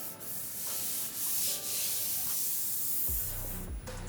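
A sanding block with 320 grit sandpaper rubs across the quarter panel of a 1971 Chevy Blazer, giving steady, close, continuous abrasive strokes, then briefly gives way to a deeper thud near the end.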